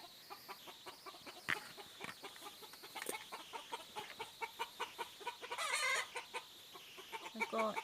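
Chickens cluck in a rapid, steady stream of short calls inside a coop where hens lay eggs, with a brief louder squawking flurry partway through, all fairly quiet and unmixed with talk.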